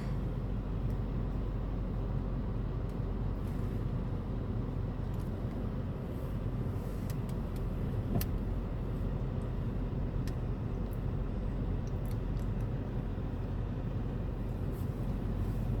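A car driven with left-sided gas pedal hand controls and a steering wheel modification, its steady road and engine rumble running continuously throughout, fairly close and even, with no one talking.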